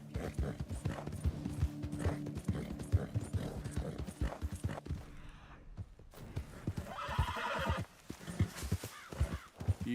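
Hooves clip-clop steadily as a horse is ridden in Red Dead Redemption 2, with whinnies and neighs breaking through, a brief lull midway, then hoofbeats picking up again; no talking.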